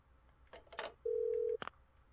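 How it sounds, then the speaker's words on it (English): A telephone in the video game Parasite Eve 2 gives a short electronic tone, preceded by a few soft clicks and bumps and followed by a brief chirp, all fairly quiet. "Here's a phone."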